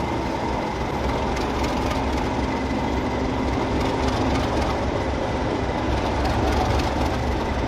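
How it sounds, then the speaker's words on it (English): A Class 37 diesel locomotive passes close by, its loud, steady engine drone mixed with rail rumble and a faint rhythmic clatter, and no voices. "some people nickname the Class 37s as tractors because of their so-called agricultural sound"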